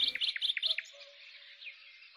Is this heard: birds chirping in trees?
yes